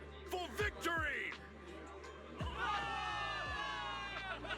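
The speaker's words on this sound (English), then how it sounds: "Cheer rises up from the gathered soldiers." Gathered soldiers in the video game Zenless Zone Zero cheer for victory, a crowd of raised voices and shouts rising under swelling orchestral music that carries on steadily after the cheer.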